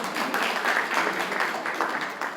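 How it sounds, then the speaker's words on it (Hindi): A crowd at a press meet claps loudly and steadily in an even, dense burst of applause, close and continuous with no talking. "एक बार जोर से तालियां तो बजाओ यार."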